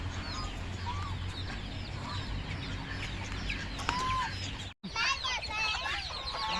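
A flock of jungle fowl chickens clucks and chatters continuously at moderate distance, many overlapping calls, with one brief dropout near the end.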